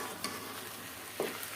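Quiet stirring of a sweet-sour chili pickle with vinegar in a pan, with a soft background hiss of cooking and two brief scraping clinks of the spoon against the pan.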